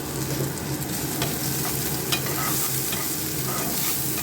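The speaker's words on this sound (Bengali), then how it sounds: "এখন আমি তেলের মধ্যে পেঁয়াজ, রসুন, আদা দিলাম।" Onion, garlic and ginger frying in hot oil, a dense, close crackling sizzle that holds steady with a few faint stirring clicks, no speech.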